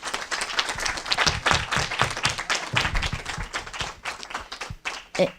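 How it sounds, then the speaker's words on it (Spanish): Audience applause for a teacher at an academic discussion session, irregular clustered claps from a small group that thin out toward the end. "¿les parece si le brindamos un fuerte aplauso a la maestra Clarisa Danae,"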